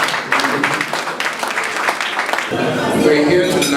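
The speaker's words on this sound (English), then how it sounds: "So please, a round of applause for Carlo" Applause from guests at a send-off dinner in Abuja, a crowd clapping steadily under amplified speech, with the room sound shifting partway through.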